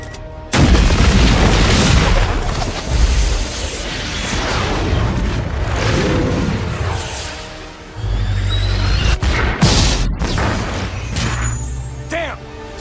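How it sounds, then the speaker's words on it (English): Intercept missiles launch and detonate in a cinematic battle over the Indian Ocean, heavy booms and roaring whooshes in loud succession, with a voice speaking over the din. "Launch intercept missiles."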